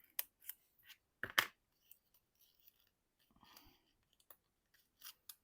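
Scissors snip through paper foliage in a quiet room, a few sharp close cuts clustered early, then soft rustling of paper and scattered light clicks.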